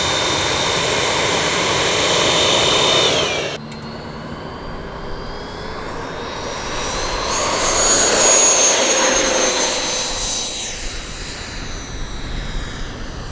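Freewing F-14 Tomcat RC jet with twin 80mm electric ducted fans flying overhead, a steady high whine and rushing roar that cuts off abruptly, then swells again as it makes a pass, no talking.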